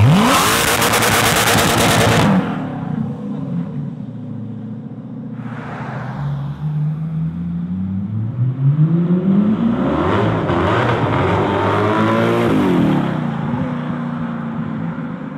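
A Koenigsegg CCX supercar in grey with orange accents revs loudly nearby, its engine note rising and falling through several sweeping pulls over a constant roaring drone.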